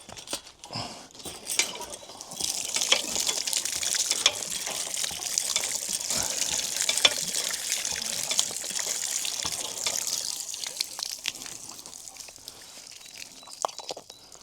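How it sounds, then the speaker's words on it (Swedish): Water runs from a tap while a hiker refills a bottle outdoors, a steady splashing stream that starts after a few light clinks and continues loudly, with small knocks of the container throughout. "Så att tar och fyller på lite vatten."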